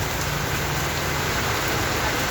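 Steady, dense hiss of rain falling on surfaces nearby in Phnom Penh, Cambodia, constant and fairly loud with no voices.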